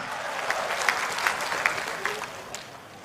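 An audience applauds during a stand-up comedy performance held before the president. Scattered sharp claps stand out in a soft wash of clapping that tapers off over about three seconds.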